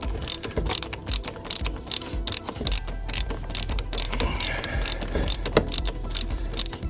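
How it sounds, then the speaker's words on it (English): A ratchet wrench clicks rapidly and loudly while undoing the oil filter housing on a London LTI TX4 Euro 6 black cab, the pawl chattering in steady bursts close by with no talk. "should be able to take that ratchet off of there now and do it by hand"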